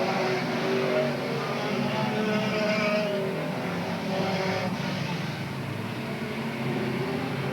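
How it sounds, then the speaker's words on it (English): Race cars roaring around Willamette Speedway during a main event, a dense continuous engine din from several cars with passes swelling and fading, heard from the stands at moderate distance. "A main event cars back on the track and racing."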